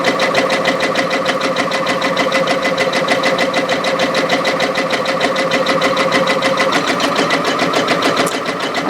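A new Janome MB-7 embroidery machine stitching out a design, a loud, fast, steady mechanical chatter that runs without a break for about nine seconds.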